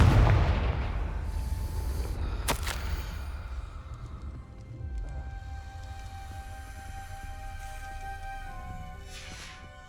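A Confringo fire spell bursts in Hogwarts Legacy: a loud, boomy blast up front with a sharp crack around the two-and-a-half-second mark, then a rumbling fiery tail that fades under a low game ambience with faint musical tones.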